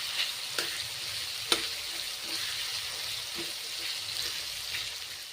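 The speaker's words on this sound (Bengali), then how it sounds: "ঝিঙেগুলো বেশ ভালো করে ভেজে নিচ্ছি" Sliced ridge gourd fries in hot oil, giving a steady close sizzle with a few soft clicks of stirring, with brief speech at moments.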